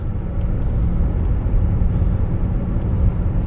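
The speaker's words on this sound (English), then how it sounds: "full throttle run." A 1997 Mercedes-Benz E300 diesel with the inline-six OM606 engine accelerates at full throttle, heard from inside as a loud, steady low rumble and drone that holds for several seconds without talk.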